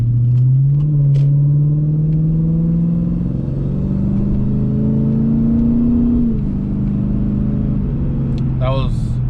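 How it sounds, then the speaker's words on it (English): A Lexus IS F driven in normal mode accelerates, its engine note climbing steadily and shifting through gears over several seconds, loud and close. "that was acceleration in normal mode in the ISF"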